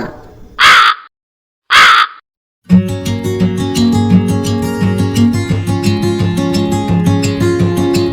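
A crow caws twice, loud and close with a pause between, followed by bright music in a children's telling of the crow, fox and grandmother's vada story.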